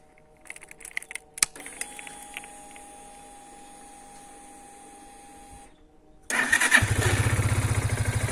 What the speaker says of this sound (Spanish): solo falta arrancar la moto